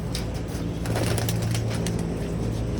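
Pigeons coo softly outdoors at an open loft beneath a constant loud wash of wind or traffic noise, with faint wing flutters.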